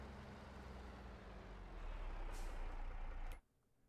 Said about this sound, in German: jetzt fahren wir aus dem Acker hier raus